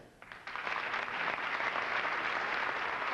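A comedy show audience breaking into applause, a dense, sustained wash of clapping that swells after a brief start and holds steady, with no talk over it.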